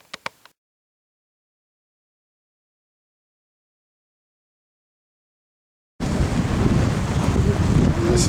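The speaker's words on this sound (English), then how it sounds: "Very windy Dartmouth" Strong gusty wind at Dartmouth buffets the microphone as a steady, loud roar that cuts in abruptly after several seconds of silence, preceded by a few brief faint knocks at the start.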